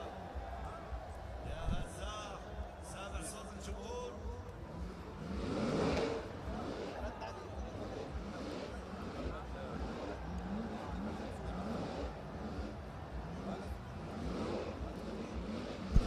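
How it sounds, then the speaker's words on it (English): A drift car engine roars and revs hard and continuously in a burnout box at a drift championship in Oman, loud and harsh, with crowd noise and shouting mixed in throughout. "The noise of that car in the burnout box is absolutely insane."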